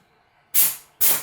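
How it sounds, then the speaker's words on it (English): Steam valve on a Wega espresso machine hisses as the boiler comes to a boil, two sharp loud bursts of bright hiss close together, each fading quickly, following a faint low hum. "This has happened just after you hear the boiler actually start to boil and the steam valve starts hissing a little bit."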